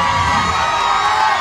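A live Punjabi concert crowd roars with cheering and whoops in a steady, dense wash that runs unbroken from start to end, with no single voice standing out.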